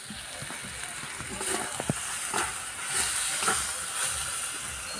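Ground cumin, chili and turmeric masala fries in hot oil for a jackfruit and prawn curry, giving a steady close hiss with a few spoon scrapes and clinks, and voices intermittently over it.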